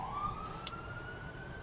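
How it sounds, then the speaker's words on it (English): An ambulance siren wails with a rising tone on the Las Vegas Strip in daytime, steady and moderately distant over constant traffic rumble, with no talking. "now this ambulance is going to come down"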